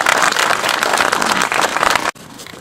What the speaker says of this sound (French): Et je vous demande de les applaudir chaleureusement.